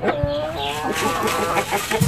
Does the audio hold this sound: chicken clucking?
yes